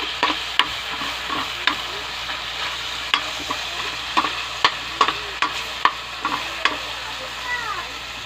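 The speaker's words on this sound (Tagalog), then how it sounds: "Gigisa ko ngayon. Sama ko ng daing tsaka ng dilis." Onion, dried fish and anchovies sautéing in a pan: a steady sizzle with repeated sharp clinks of a utensil stirring and scraping, close and fairly loud, no voices.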